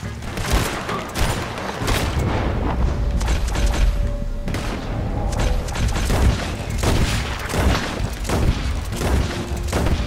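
Heavy gunfire from a Red Dead Redemption 2 shootout, dense and rolling for the whole stretch, with booming shots and thuds piling on top of each other at close range.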